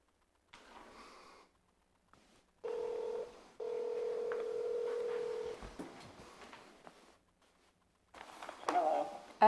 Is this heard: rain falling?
no